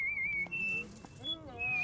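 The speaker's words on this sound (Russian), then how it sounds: "Не свисти, говорю." A person whistles a steady high tone in short held notes, loud and close, with brief gaps and pitch shifts, while speech runs underneath.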